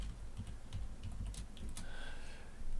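Quiet clicks of typing on a computer keyboard while entering text for a push notification, scattered taps at an irregular pace over a low hum, with no talking.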